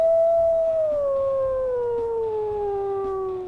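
A female wolf in the video game WolfQuest gives a long, clear howl that slowly falls in pitch, steady and close, with a fainter secondary tone trailing beneath it.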